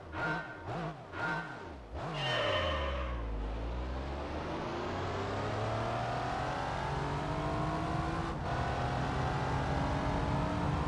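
Dodge Viper GTS engine in Gran Turismo 3, a few short revving blips followed by a long loud acceleration that climbs through the gears, the whine rising and dropping at each shift.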